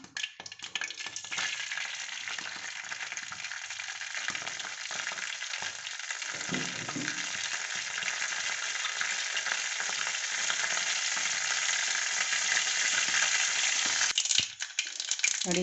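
Cumin and mustard seeds splutter in two to three spoons of hot oil in a kadai, a steady close crackling sizzle that builds in intensity and runs continuously, with a brief stir near the end and no talking.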